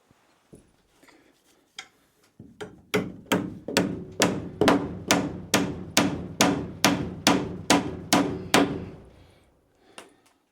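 A hammer drives nails into a metal joist hanger on a homestead building, roughly fifteen sharp, evenly spaced blows in a steady rhythm, close and loud, after a few light taps and ending with a single strike.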